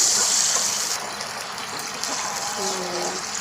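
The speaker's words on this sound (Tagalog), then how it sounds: "Maglagay tayo ng 2 basong tubig." Two glasses of water are poured into a pan of sautéed garlic, onion and shrimp while cooking Bicol pancit bato, producing a steady, fairly loud gushing splash that runs unbroken for several seconds.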